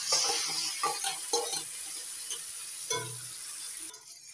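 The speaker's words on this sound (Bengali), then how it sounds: "সব কিছু মিশিয়ে নিয়ে ভাজা ভাজা করে তারপরে দিয়ে দিচ্ছি বেটে নেওয়া শিম।" Spices fried and stirred with ground flat bean paste, a close sizzle broken by several scraping stirs and soft clinks of a spatula, fading at the end, with no speech.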